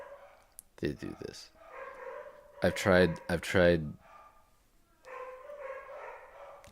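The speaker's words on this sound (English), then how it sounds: "Don't mind the dogs." Several dogs bark in quick bursts, with a first cluster of sharp barks and then a louder volley, while a person talks in between and afterward.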